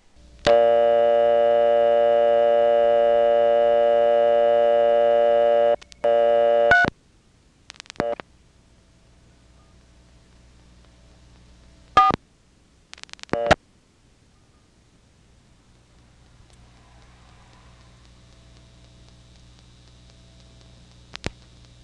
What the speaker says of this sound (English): This answering device does take a while to answer, so while it's ringing